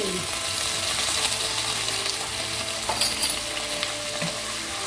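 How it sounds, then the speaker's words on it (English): Firecracker prawns stir-fry with dark soy sauce in a hot pan, a loud, dense, continuous sizzle close up with occasional scraping and clinks from stirring. "Give it a quick stir."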